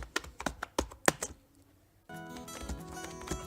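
Keys on a computer keyboard clatter in a quick irregular burst of taps while text is entered in PowerPoint, close and fairly quiet, then a steady tonal background takes over.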